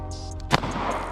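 A single sharp gunshot from a pistol with a red dot sight cracks out at a shooting range, a brief loud report that rings off quickly against low background noise.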